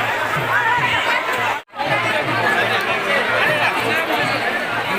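Dense crowd chatter at the Bali Yatra festival, a steady wash of many overlapping voices close around, broken once by a brief dropout before the babble resumes at full level.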